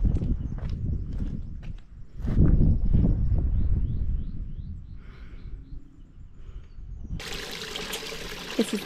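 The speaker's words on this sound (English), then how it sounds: "This is the first time I've ever used my Sawyer water filter." Uneven trickle and splash of water running through a Sawyer water filter outdoors on a Lake District wild camp, close and fairly quiet, with a louder rushing burst near the end.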